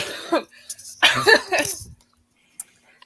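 A person coughs sharply a few times close up, with a brief pause between bursts and a faint throaty sound at the end.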